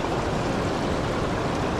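Swift stream water rushes steadily and loudly, a close, dense broadband wash with no pauses or voices.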